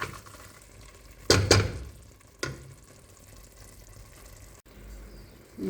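Onions cooking down with cinnamon in a pot are stirred with a spoon, giving a couple of loud scraping, clattering bursts over a continuous low frying sizzle, then quieter stirring; no one speaks.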